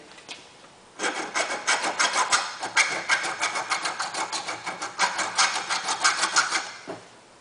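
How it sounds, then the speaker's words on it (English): A hand file rasps over metal on an electric Karmann Ghia conversion, smoothing ridges flat in quick, even, close strokes that start after a second of quiet and continue until near the end. "just file it down to where we don't have any ridges on there"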